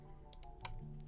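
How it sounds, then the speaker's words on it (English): Computer keyboard typing, a few soft key clicks scattered over a short stretch against a steady low hum. "You like the keyboard sound?"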